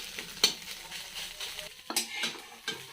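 Scrambled egg frying in oil in a pan, a faint steady sizzle broken by sharp scrapes and clinks as a utensil stirs it against the metal.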